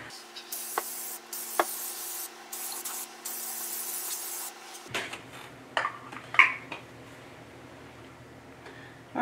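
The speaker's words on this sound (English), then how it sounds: "Pretty quick spray." An aerosol paint can hisses in a few short bursts, then gives way to quieter clinks and rustling of handling nearby.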